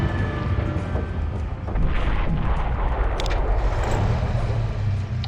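Artillery barrage in Warhammer Epic 40K: Final Liberation, a dense, loud rumbling roar of booms and blasts rolling on continuously, with no voices.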